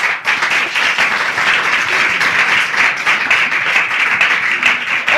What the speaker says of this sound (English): Yes, you can clap if you want to.